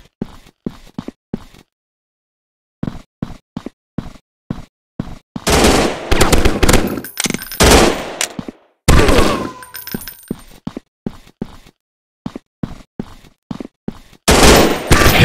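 Rapid gunfire fills an Android first-person shooter game: short clipped shots and bursts separated by brief silences, then dense, loud stretches of sustained automatic fire, with no speech.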